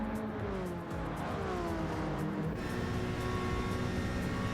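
GT race cars racing on a track through the S's and down the back straightaway, a dense roar of several engines at once, pitches sweeping and shifting as they run close together, loud and continuous with no voices.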